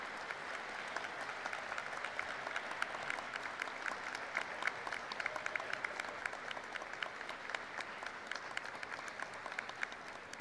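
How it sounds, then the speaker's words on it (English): A large crowd of law school graduates at a commencement ceremony claps steadily and continuously, a dense, even patter heard from a moderate distance with no speech over it. "give them a round of applause to thank them for all they've done for you"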